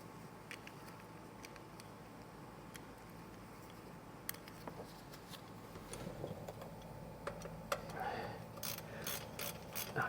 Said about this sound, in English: we got to get the lower plug back in again.